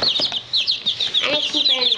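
Baby chicks give rapid high-pitched peeps and chirps at close range, overlapping in quick bursts, with a voice talking over them.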